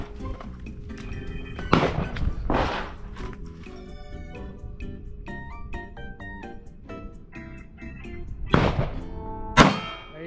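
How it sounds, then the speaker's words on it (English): Pistol shots from a Glock 45 and a Taurus G3 striking steel targets: four loud, sharp impacts spaced across the stretch, two close together early and two near the end, over a steady background hum. "shoot that one, ding, and then you move to that one, ding."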